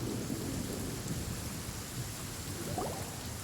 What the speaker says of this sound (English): The thunder drowns out all other sounds.